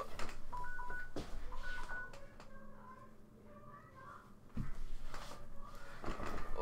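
Phone going off in Skyrim, a couple of short two-tone electronic beeps early on, faint and partly masked by clattering game sounds and background noise.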